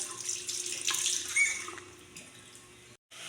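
Running tap water splashes into a sink with clinks and gurgles as dishes are washed, close by, then cuts off briefly near the end.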